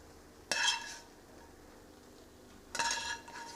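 Peas and broccoli being stirred into rice in a pan over a low gas flame while making chicken tahari: two short scraping strokes separated by a quiet pause, close and moderately loud.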